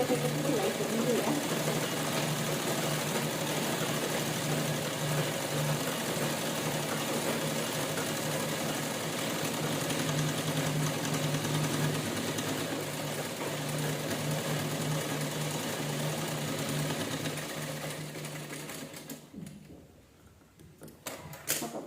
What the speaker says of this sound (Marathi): एका साईडची शिलाई केली की दुसऱ्या साईडची शिलाई करून घेऊया.